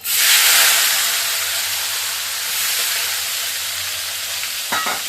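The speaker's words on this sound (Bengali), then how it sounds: "এদিকে আলু পেঁয়াজটা ছেড়ে দিই, আলু পেঁয়াজটা ভাজা হয়ে যাক" Potato and onion frying in hot oil, a steady loud sizzle and hiss that runs throughout with a brief clatter of stirring near the end.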